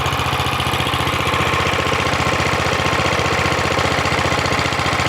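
A portable gasifier engine runs on wood pellets, a steady loud mid-pitched chugging idle with a fast, even pulse that stays close and continuous from start to finish, with no voices.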